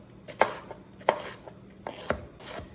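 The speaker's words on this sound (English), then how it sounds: "try to chop them up pretty small, so you can have a nice consistency" A knife chops vegetables into small pieces on a cutting board, four distinct crisp thunks at a slow, steady pace, close and fairly quiet with no talking.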